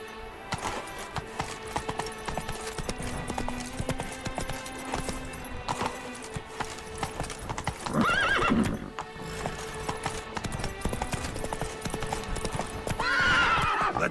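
The horse Roach in the Witcher 3 video game galloping with a rapid, continuous clip-clop of hooves. There are loud whinnies around the middle and again near the end, over game sound.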